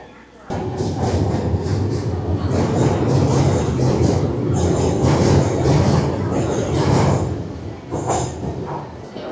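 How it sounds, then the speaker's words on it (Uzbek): A metro train in China rumbles in steadily, loud and close, with a broad roar and faint high squeal; a voice talks briefly over it. "Mana bizni metromiz keldi"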